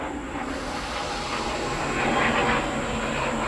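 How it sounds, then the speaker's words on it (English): A plane passes overhead as a steady broadband roar and hiss, swelling slightly midway, distant and continuous in an otherwise quiet outdoor setting. "There's a plane going by."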